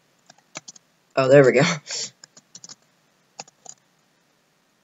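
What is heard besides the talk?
computer keyboard typing a penguin name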